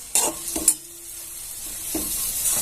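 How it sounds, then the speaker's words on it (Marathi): Peanut and crushed red chilli chutney with salt cooks on a low gas flame, giving a soft, steady sizzle with a couple of sharp stirring scrapes near the start. "आता आपण हे कमी गॅसवर शिजून घेते झाकण ठेवून"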